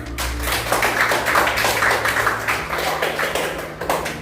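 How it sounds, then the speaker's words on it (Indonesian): A class gives a short round of applause in a classroom, with steady overlapping hand claps close by, mixed with a low hum and faint background murmur. "Beri tepuk tangan."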